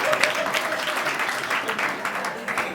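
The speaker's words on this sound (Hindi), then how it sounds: "एक बार ताली वाली बजाओ तो होता रहता" Audience clapping at a Hindi poetry recitation, a short burst of dense applause from a crowd with a few louder claps standing out and faint voices underneath.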